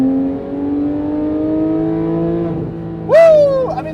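A 991.1 Porsche 911 GT3 RS engine climbs steadily in a long high rev, then a sharp louder shift and rise in pitch near the end; close, loud and without talk.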